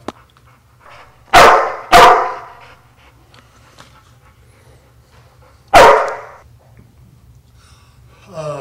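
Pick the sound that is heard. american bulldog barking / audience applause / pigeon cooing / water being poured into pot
american bulldog barking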